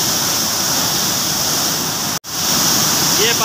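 Floodwater roars over Taunsa Barrage in a steady, dense broadband rush, heard loud and close with a brief cut near the end.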